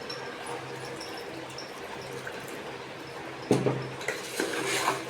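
Sweet rice with milk being stirred in a pot: faint background hum, then a few soft spoon-against-pot clinks and wet mixing sounds near the end.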